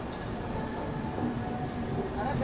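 Samarsata Express 12152 pulling out of Raipur Junction in Chhattisgarh, a steady low rumble and hum heard from inside the train, constant and moderately loud.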